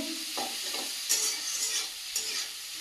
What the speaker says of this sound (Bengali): দিয়ে পেঁয়াজটা ভালোভাবে ভেজে নেব